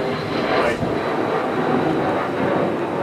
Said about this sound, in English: That was a plane going by.